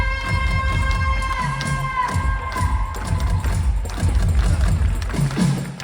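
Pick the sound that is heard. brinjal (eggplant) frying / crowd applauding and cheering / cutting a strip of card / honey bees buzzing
crowd applauding and cheering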